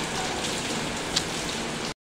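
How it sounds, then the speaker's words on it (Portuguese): Steady summer rain falls on an outdoor surface, a dense continuous patter with scattered drops standing out, no voices, until it cuts off abruptly near the end. "Chuvinha bem gostosinha de verão."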